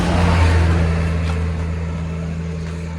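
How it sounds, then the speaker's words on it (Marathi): Vehicles on a road come up from behind: a loud, steady engine drone with a low tonal hum that eases slightly as it continues. "पाठीमागून गाड्या येतात"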